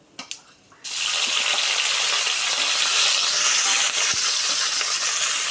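Chopped onions dropped into hot oil tempered with mustard seeds, urad dal and chana dal for rava upma, bursting into a loud, steady sizzle after a few small crackles and continuing without pause.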